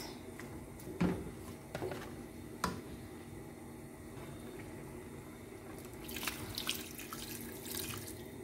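Tap water runs into a sink while a cooking pot is rinsed out in a home kitchen during preparation of brown stew pork, a steady close splashing with a few clinks and surges, growing louder near the end.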